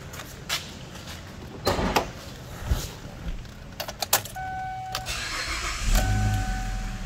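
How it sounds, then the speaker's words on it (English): A 2008 Chevrolet Equinox cranks and catches, its engine settling into a steady idle close by, with a few clicks and a door or hood clunk and some key jingling around it. "So I'll go ahead and I'll start it up, let you listen to it run"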